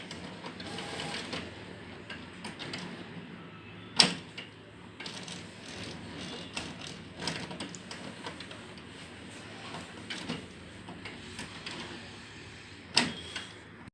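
An HP Officejet printer runs a copy job, whirring and clicking mechanically at moderate volume, with a couple of sharper clacks standing out from the busy feed noise.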